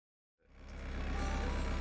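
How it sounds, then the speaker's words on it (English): Narrowboat engine running, fading in from silence to a low, steady, pulsing idle rumble that stays faint and unbroken. "Here the engine's already on."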